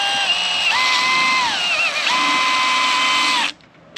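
A power drill drives self-tapping screws into a shed, a loud close whine that rises and dips in pitch across several bursts of load, then cuts off abruptly near the end.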